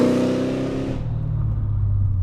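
A supercharged Mercedes CLK55 AMG running an M113K engine from an SL55 AMG revs high, then drops abruptly to a deep, rumbling idle, loud and close.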